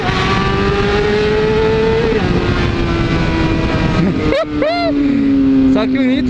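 A Honda CBR600RR sport bike engine runs loud and close with sustained high-pitched tone, dropping and then rising again in sharp revs, while people talk over it.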